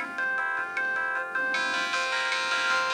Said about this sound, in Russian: Теперь пробуем, включаем телефон.